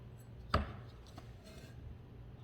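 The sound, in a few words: chopping food into small pieces with a knife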